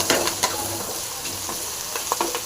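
Green gram sizzles in a pan with coriander and curry leaves, a steady frying crackle broken by several sharp scraping clicks as a spoon stirs it, close and clear.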